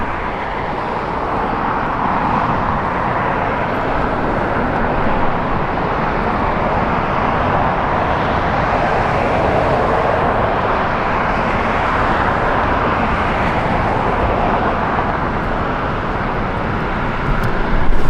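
A Boeing 747-400 airliner taxiing at Los Angeles International Airport, a steady broad engine roar heard from a distance that holds an even level throughout, with no talking.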